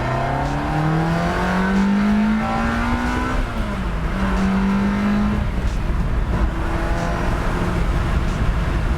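A 2001 Ferrari 360 Spider with a gated six-speed pulls hard through the gears on a hot day, its engine note climbing in rising sweeps, dipping at a shift, then climbing again, loud and continuous from inside the car.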